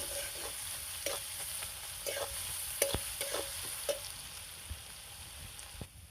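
Garlic frying in a pan with very little oil while preparing a simple chicken dish, a soft steady sizzle broken by repeated scrapes and taps of a spoon stirring, fairly quiet and close with no talk.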